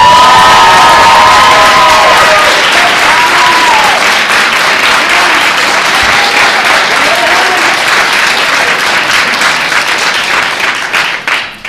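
A school audience at Clark School applauds and cheers loudly and steadily, with children shouting and whooping through the dense clapping, which tapers off near the end.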